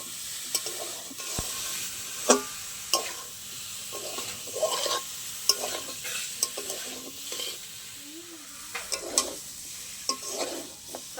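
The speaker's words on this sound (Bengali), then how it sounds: "এবার আমি সিদ্ধ করে রাখা ওল আর ভেজে রাখা আলু একসাথে দিয়ে দেবো মশলার মধ্যে।" Boiled yam and fried potato are stirred into spice paste in a pan, with a soft steady sizzle under repeated scraping and clinking strokes of a spoon at an irregular rhythm, close and fairly quiet.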